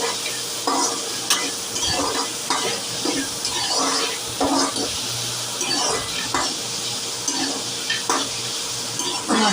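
Eggplant and dried fish curry stirred in a pan until it mashes down, with steady sizzling and repeated scraping strokes of a spoon against the pan at close range, no talking.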